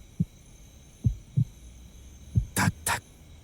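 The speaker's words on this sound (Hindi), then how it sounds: "मेरे दिल की धड़कन" Heartbeat sound effect from a Hindi-dubbed action film: a few soft, deep thumps spaced irregularly, followed by two louder, broader beats near the end over a faint steady hum.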